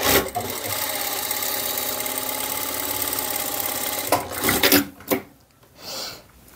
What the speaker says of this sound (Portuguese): Posiciono também na máquina 1 centímetro. E vou passar a costura.